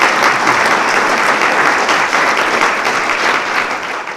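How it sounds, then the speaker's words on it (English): A crowd applauds steadily, a dense wash of clapping that holds for several seconds and then starts to fade toward the end. "If we could give our group a round of applause."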